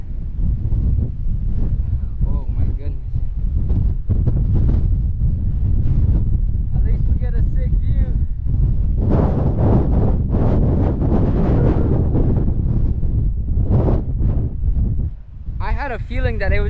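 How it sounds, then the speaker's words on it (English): Strong gusting wind buffets the microphone while mountain biking on Box Springs in Moreno Valley, a loud continuous roar with rushing bursts throughout and brief faint sounds near the end. "I've never ridden in this type of wind."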